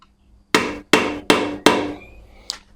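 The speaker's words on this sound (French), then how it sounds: "C'est de prendre un pointeau, de taper un petit peu au fond de la vis, de l'empreinte," A center punch is struck into a screw head on a Honda CB 350 engine: four sharp metallic hammer blows at an even, steady pace, close and loud, followed by a fainter clink, with no speech.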